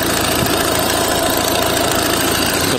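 A Volvo V50 car engine idling with a worn crankshaft pulley, giving a steady, loud, dense running drone with a faint knocking texture, uninterrupted throughout with no talking.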